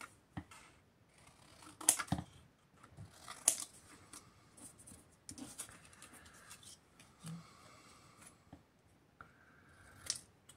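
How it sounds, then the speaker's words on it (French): Scissors cut out a paper label for a handmade Easter card: quiet, close snips come in separate bursts with light paper rustling between them, and no one speaks. "je vais prendre l'étiquette, je vais la découper"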